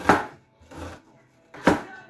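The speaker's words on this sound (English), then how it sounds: "And dice up an onion." Knife chopping through an onion on a board, three distinct dicing strokes with pauses between them, close and crisp.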